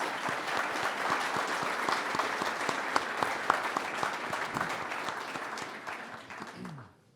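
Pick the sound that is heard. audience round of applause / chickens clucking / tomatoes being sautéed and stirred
audience round of applause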